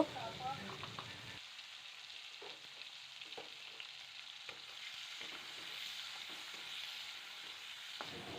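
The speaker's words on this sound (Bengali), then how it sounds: "এবার মাছটা ভেজে নিচ্ছি হালকা করে মাছটা ভাজবো" Prawns fry lightly in hot oil with cumin seeds and bay leaf, giving a steady, soft sizzle that lasts throughout. A few stirring clinks come early on.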